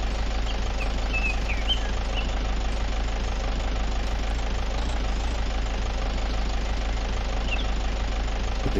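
An excavator engine idling in the Gold Hunter game, a steady low rumble with a constant mechanical drone and no change in pace, running alone.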